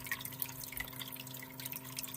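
Water runs steadily and drips on a Miller concentrating table used for concentrate testing, a continuous trickle with scattered small drips over a low mechanical hum.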